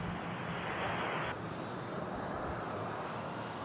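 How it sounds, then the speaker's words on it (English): A jet airliner rolls along the runway at Toronto airport, a distant, steady broadband rumble and whoosh of engines that thins slightly midway as the aircraft moves away, with no voices over it. "they're making these planes quieter and quieter. Like, yeah, we can hear it now."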